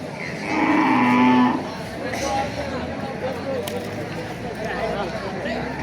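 A cow moos loudly once at a village cattle market where local and Holstein Friesian cattle are sold, followed by crowd chatter and people talking in the background.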